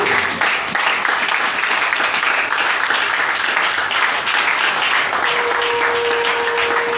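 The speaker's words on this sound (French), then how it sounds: "Et je voulais qu'on applaudisse pour Jésus" A church congregation at a retreat applauds together, a dense steady wash of clapping holding at even loudness for several seconds, with a faint sustained tone entering near the end.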